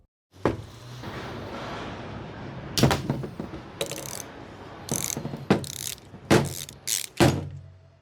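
A Torx 30 bit works the oil drain and fill plug on a Mini Cooper S R53 supercharger, giving a series of close, sharp ratcheting clicks and metallic turns in bursts, with quiet gaps between.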